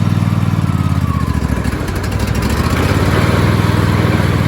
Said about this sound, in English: I'm going to put the mower deck down a little bit and engage the blades